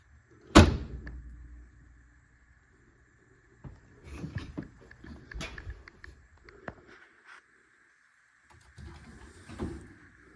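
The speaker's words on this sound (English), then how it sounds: "and shut the door." A wood stove's glass-fronted oven door slams shut with one sharp, loud metallic thud, followed by softer clanks and rattles of the latch and handle in a quiet room.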